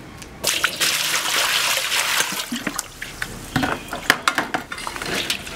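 Pig liver is rinsed under running water, with a steady gush from the tap and then splashing and sloshing as the liver is handled, close and fairly loud.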